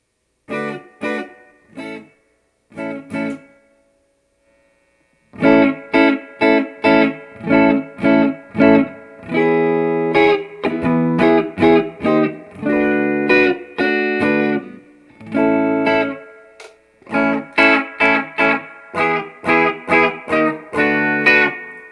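Overdriven electric guitar through a tube amp plays chords and riffs in choppy strummed bursts, loud and close, with a few short pauses between phrases.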